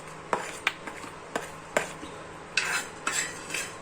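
Coriander seeds roast in a dry pan, with a quiet background hiss under a series of light, irregular scraping and rattling stirs, some short clicks and a few longer swishes.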